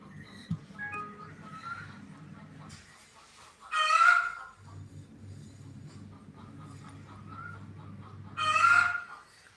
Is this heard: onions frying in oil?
no